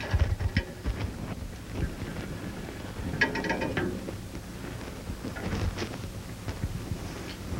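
Tightening the blade band on a horizontal bandsaw gives a rough, uneven mechanical rattle and grinding at close range, with a few ratcheting bursts and metal clicks and no talk.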